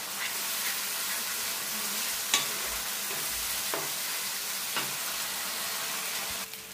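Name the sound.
spice paste frying in a kadai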